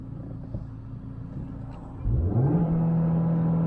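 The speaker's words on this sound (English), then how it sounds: "Revving the motor, revs till 5000 RPM." A 2020 Maruti Swift VXI+ BS6 petrol engine idles with a low rumble, then revs up sharply near the two-second mark, climbing and holding a steady high drone to the end, loud and close with no talk.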